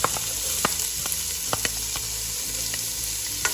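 Chopped onion frying in about two tablespoons of cooking oil, a soft continuous sizzle punctuated by a few sharp clicks and taps of a spoon against the pan, no talking.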